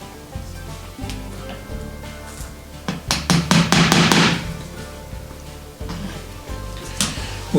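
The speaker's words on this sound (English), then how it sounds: "So I've nailed down the piece of masonite," Nails hammered into a masonite sheet during model railway track work: a quick burst of six or seven close, sharp taps around the middle, with a few isolated knocks before and after.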